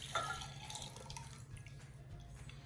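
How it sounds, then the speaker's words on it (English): Homemade hand sanitizer poured from a container into a cylinder, a soft continuous liquid trickle with light splashing, fairly close and steady throughout. "I'm gonna pour it into my cylinder here."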